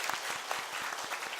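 Church congregation applauding in a steady burst of clapping, moderately distant and continuous, with no talk over it.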